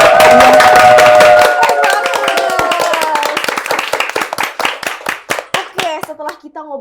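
A small group in a church-service podcast setting claps together, dense at first and then thinning into sparse, separate hand claps that trail off near the end, with someone speaking briefly at the start.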